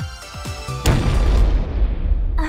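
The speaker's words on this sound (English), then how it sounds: "That sounded like an explosion. More specifically, a collapsing ceiling." A collapsing ceiling in Hyperdimension Neptunia mk2 sets off a loud booming explosion after a few short lead-in thumps, then a long rumbling crash that fades gradually.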